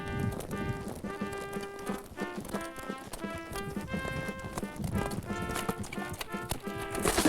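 Horse hooves clip-clop in a steady, rhythmic trot, moderately loud and close, with music-like tonal sounds layered over the beat.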